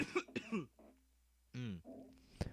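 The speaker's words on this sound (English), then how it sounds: "I got a nasty cough here." A person coughs several times in quick bursts, with throat clearing mixed in, close and fairly quiet, separated by short pauses and ending with a final sharp cough.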